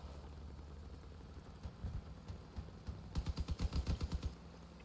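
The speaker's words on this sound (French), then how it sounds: "J'ai que ma mitrailleuse centrale qui tourne presque pas, qui fait que attaquer devant." Machine gun fire from a centrally mounted gun on a three-wheeled vehicle in the combat game Crossout, a rapid run of repeated bursts that grows louder toward the end over a background engine rumble.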